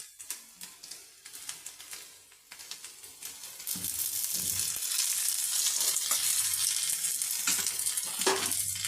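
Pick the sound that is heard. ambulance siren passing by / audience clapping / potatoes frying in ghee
potatoes frying in ghee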